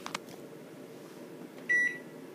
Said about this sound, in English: Let's pop them back in the microwave